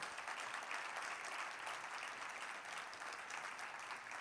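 A church congregation applauds and acclaims, a continuous wash of many hands clapping heard faintly and from a distance, steady and unbroken with no clear voices standing out.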